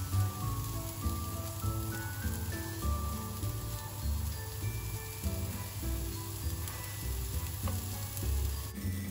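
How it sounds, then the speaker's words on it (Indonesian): Broccoli and carrot sautéed in a pan as homemade baby food give a steady, close sizzle with occasional stirring that runs the whole time, over a constant low tonal hum. "Terus kita tumis-tumis deh sampai sayurannya terlihat layu."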